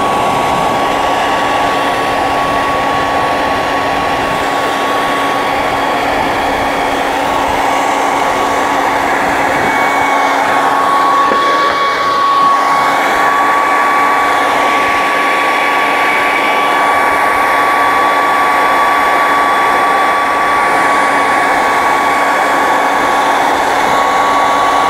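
A hair dryer runs continuously at a steady loud whir with a constant tonal hum, heating and softening resin, with no pauses or talk.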